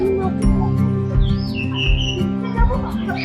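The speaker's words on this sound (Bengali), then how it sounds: "পাখির আওয়াজ পাচ্ছি," Wild birds chirp in the trees of a century-old garden house in Konnagar, Hooghly, giving short, bright calls and a few squawks over a steady low background hum.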